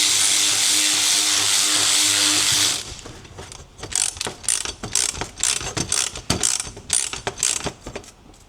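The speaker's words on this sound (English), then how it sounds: "we're going to tighten this bolt up" A bolt is tightened on a Sea-Doo Spark trim kit, first under a steady loud hiss, then as a run of close, crisp ratchet clicks in irregular bursts.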